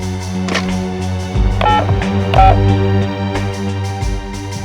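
A short run of electronic dial tones as a phone number is dialed, several beeping keypresses in quick succession over a low hum, clear and close.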